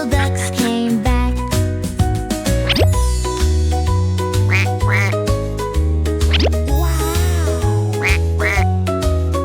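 Cartoonish duck quacks ring out repeatedly over a bouncy children's tune, imitated rather than from a real bird.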